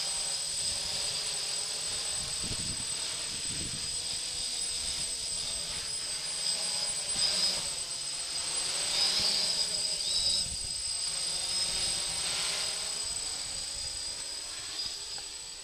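A DJI F550 hexacopter drone flies in gusty wind, its motors giving a steady high whine over a broad rushing hiss, holding a fairly even level at moderate distance.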